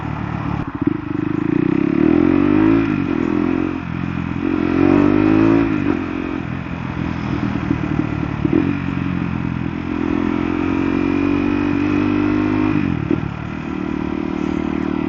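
A KTM Duke 390 motorcycle engine hums and revs steadily while riding, with gear changes and rising pitch sweeps, close and continuous for the whole stretch.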